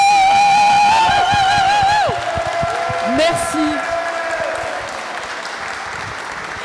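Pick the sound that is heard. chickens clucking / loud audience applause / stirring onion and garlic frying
loud audience applause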